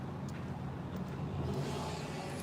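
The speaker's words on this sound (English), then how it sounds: "This loud truck behind me started to drive when I turned on the sidewalk." A loud truck pulls away on a street beside a sidewalk, a low rumbling engine that builds steadily over a couple of seconds, fairly close.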